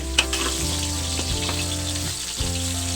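Ginger frying in a pan for a simple chicken curry, a loud, steady sizzle close by with a few spatula clinks and scrapes as it is stirred.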